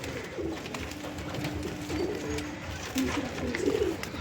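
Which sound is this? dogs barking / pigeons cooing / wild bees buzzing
pigeons cooing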